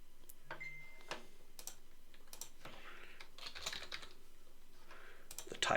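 A page title being typed on a computer keyboard: scattered close key taps in short irregular bursts, with a few louder clacks near the end and no speech.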